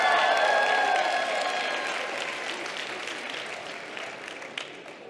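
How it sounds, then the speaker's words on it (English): An audience applauds at a medical bronchoscopy challenge championship, a dense burst of clapping that starts strong and slowly tapers off, with a faint tone ringing at the start. "Give him a big round of applause."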